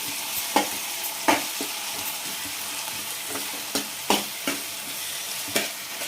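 Ginger paste fries in a pan with liver and amaranth greens, giving a soft, continuous sizzle broken by repeated sharp scrapes and clinks as a utensil stirs at an uneven rhythm.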